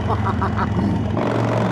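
A Yamaha motorcycle engine revs hard up close, with pulsing throttle blips giving way to a sustained, loud exhaust roar through aftermarket mufflers.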